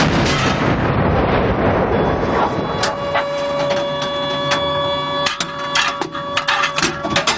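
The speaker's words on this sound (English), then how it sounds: "When we shot our main gun, it was nothing like what I expected, sitting inside the turret." Tank main gun firing during crew gunnery drills, heard as loud booming blasts and sharp impacts layered over steady mechanical hum and a whining tone, with several bursts toward the end.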